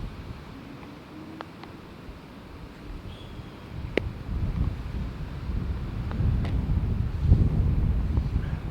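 Gusty wind buffets the microphone out on a golf course, a rough low roar that swells and rises toward the end, with a few faint clicks and no voices.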